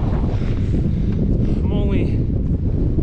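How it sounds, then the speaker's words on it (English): Strong wind buffeting a microphone outdoors during a climb some 200 feet up, a steady loud roar and rumble throughout with someone talking over it. "you probably can't hear me right now because it's so windy"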